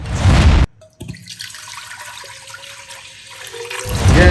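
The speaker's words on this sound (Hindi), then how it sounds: "अब मैं इसमें डालूंगा पानी।" Water poured from a tap into a cooking pot for mung and masoor dal on a home stove, a steady running stream after a brief pause, loud and close, with no talking.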